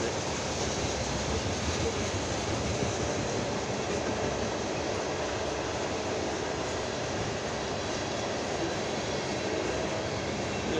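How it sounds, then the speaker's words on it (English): A westbound Norfolk Southern ethanol freight train rumbles past nearby at night on the main line near Payne, Ohio, a broad continuous roar of wheels on rails holding steady throughout. "This is a westbound Norfolk Southern train with Ethanol unit."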